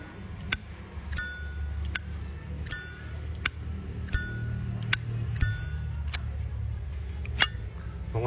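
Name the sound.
Zippo lighter lid ringing like a temple bell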